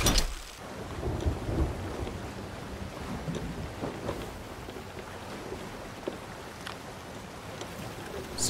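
Thunderstorm at sea in Sea of Thieves: a steady wash of rain and wind with rolling thunder rumbles, a louder crack near the start, continuous and fairly loud with no talk.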